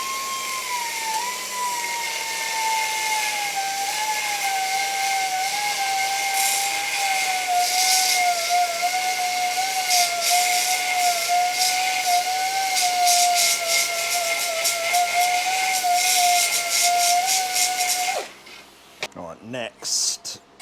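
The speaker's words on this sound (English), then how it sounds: "I think grinding the edge like that's just ripping the grit straight off the belt" A belt grinder grinds the edge of a metal piece, giving a loud, steady high-pitched whine with a wavering tone and hiss throughout, cutting off abruptly near the end into a few brief clanks.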